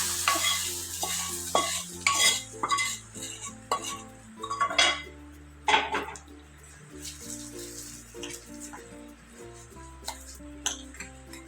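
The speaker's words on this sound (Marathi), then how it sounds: "आता ही फोडणी नाही, आता आपण ह्या डाळ आणि कैरीवर ओतूया." Hot tempering is poured over dal and raw mango, then stirred, brief sizzles mixed with repeated metal spoon scrapes and clinks against a pot, close and without speech.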